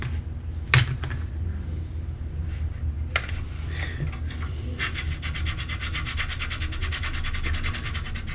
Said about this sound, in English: I'm just trying to make fast work of this with the file.